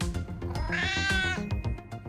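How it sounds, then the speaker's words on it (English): A cat meows when petted in the space-management game Holy Potatoes! We're in Space?!, one drawn-out, clear meow over bouncy game music, loud and up front. "you can pet a cat"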